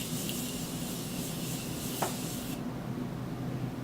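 A Lottie London beauty product is sprayed, a soft close hiss that runs for a couple of seconds and then cuts off, with faint rubbing and no talking.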